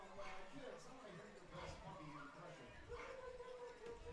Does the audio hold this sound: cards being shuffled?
no